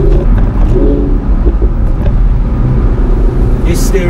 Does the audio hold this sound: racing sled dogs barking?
no